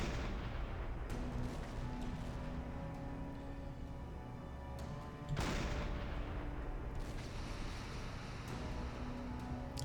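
Naval gun shells fire at a ship in the Silent Hunter 5 submarine video game. Heavy booming blasts sound over a continuous rumbling din, with a few sharp reports spread across the clip.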